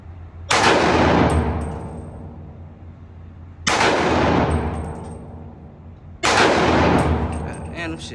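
Three single Draco shots ring out about three seconds apart at an outdoor gun range, each a loud sharp crack followed by a long rolling echo that fades before the next.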